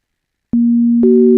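Synthesized sine waves stacked in the sapf audio language: silence, then a loud, pure steady tone enters abruptly, and about half a second later a second, higher tone joins and both keep sounding together.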